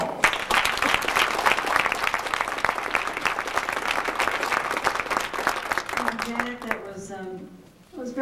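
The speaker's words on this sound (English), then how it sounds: "give her a great round of applause" Dense audience applause greets the mayor of Tulsa as she is welcomed on stage at an NAACP convention. It stays loud for about six seconds, then thins and fades as a voice begins speaking.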